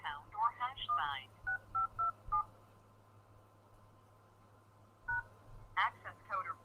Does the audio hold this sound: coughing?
no